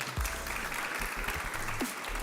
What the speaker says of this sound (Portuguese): uma salva de palmas para Imagonet da Colômbia,